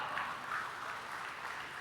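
Scattered applause from an audience at a church plenary session, a thin, steady patter of hands heard from a distance that carries on without voices.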